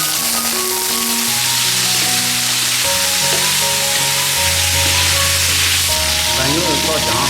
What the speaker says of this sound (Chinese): 然后再炒牛肉。